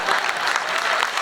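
Audience applause at a Marathi comedy show, a brief dense burst of many hands clapping together, loud and even, with no speech over it.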